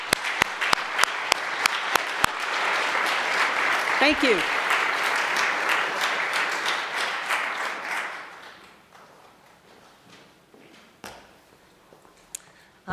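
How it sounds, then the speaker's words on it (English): Congregation at a Sunday service applauding, a few scattered claps swelling into a full round that fades out after several seconds, followed by brief talk and isolated claps. "Please give everyone a huge round of applause."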